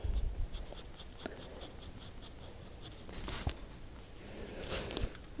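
An F pencil draws on paper in steady, close scratchy strokes, with soft rhythmic scraping and a few brief taps, continuing without pause across the stretch.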